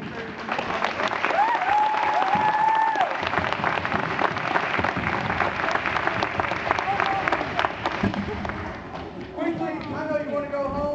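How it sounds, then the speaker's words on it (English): An audience applauds teachers and administrators, dense sustained clapping and crowd noise filling the whole stretch, with some cheers and whoops rising over it. "Can we just give a round of applause to the teachers and the administrators?"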